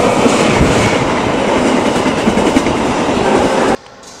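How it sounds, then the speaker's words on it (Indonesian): A locomotive hauls train cars along a main railway line in Java or Sumatra with a loud, close, continuous rumble and rhythmic wheel clatter. It cuts off abruptly near the end. "lokomotif pun siap berdinas, menarik berbagai kereta di jalur utama rel di Jawa dan Sumatera"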